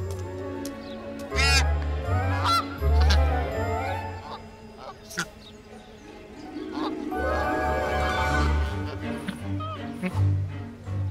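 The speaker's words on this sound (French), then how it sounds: "Des oies américaines." American geese honking in loud, irregular bursts nearby in Paris, over a low background rumble, with speech heard in between.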